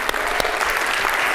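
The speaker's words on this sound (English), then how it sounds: "Give yourself a round of applause." Audience clapping at a visual storytelling workshop presentation, a dense, steady burst of many hands filling the room at even loudness for a short moment, with no talk over it.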